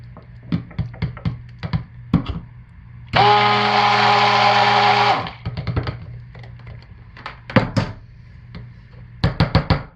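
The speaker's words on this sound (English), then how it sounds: "let's give this a quick buzz with the stick blender" A stick blender whirs through cold process soap batter in one steady, loud burst of about two seconds, with scattered knocks and clatter of containers before and after.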